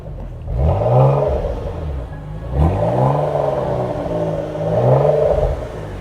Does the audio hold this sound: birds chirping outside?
no